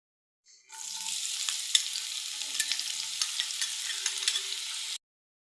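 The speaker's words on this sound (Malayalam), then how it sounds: "ഇനി നമുക്ക് ഈ ഉള്ളി വാടുന്നത് വരെ നന്നായി ഇളക്കി കൊടുക്കാം" Sliced onion sizzles steadily in hot oil in an Indian home kitchen while being stirred for noodles, a bright continuous crackle with occasional scraping clicks from the spoon, close and alone with no talk.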